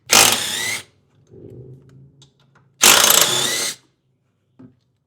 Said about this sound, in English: So next we're going to remove the sway bar to give ourselves a little bit more room. So there's 2 13mm bolts on each side.